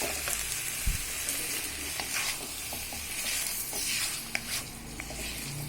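Boiled wheat-flour pasta is stir-fried in a hot pan, giving a steady close sizzle with repeated spatula scrapes and knocks against the pan, and no talking.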